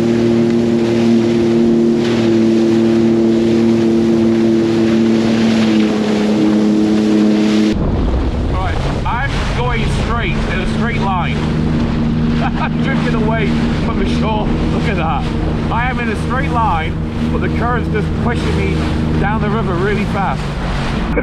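A Sea-Doo personal watercraft rides over choppy waves on Lake Huron, its engine droning loud and close under heavy wind buffeting, with the tone shifting partway through as the hull slaps across the water.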